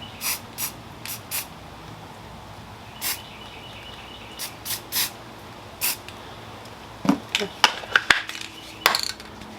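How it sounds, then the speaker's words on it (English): Several short hissing sprays from a can of black spray paint, brief bursts spaced apart with quiet gaps, then a quicker cluster of sprays toward the end. "I'm just going to touch it up with a little bit of black spray paint"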